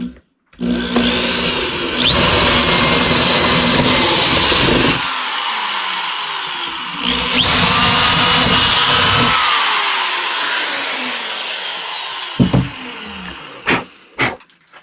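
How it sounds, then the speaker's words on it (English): A power drill bores a starter hole for a jigsaw blade during a diesel heater install: two loud, sustained whirring bursts, with a short pause between them, followed by a few clunks and knocks at close range. "we're gonna make a starter hole for my jigsaw blade"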